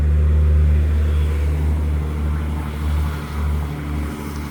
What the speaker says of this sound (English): Them wood trucks, man, they know they are loud.